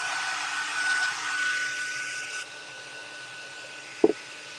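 A hair dryer blows on a handmade holiday decoration with a steady airy whoosh that cuts off partway through, then a single sharp clunk follows in the quiet.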